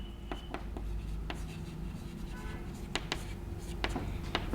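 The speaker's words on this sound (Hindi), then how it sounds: "लिख देता हूं" Pen or marker writing on a board during a Class 11 maths lecture on relations and functions, with steady scratching strokes and sharp taps in a continuous run under a low background hum.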